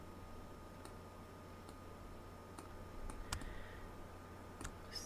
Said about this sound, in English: Keep on my Mac keyboard, I keep hitting the command